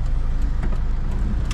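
A car drives along with a steady low engine and road rumble, heard from close by and without any break over a second and a half.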